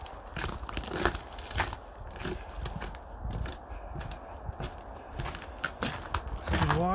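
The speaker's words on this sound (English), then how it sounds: "sorry about the crunchy snow sound." Footsteps crunch through snow in a wildlife area near a bird-watching hut, a close, uneven series of crisp crunches with brief pauses between steps.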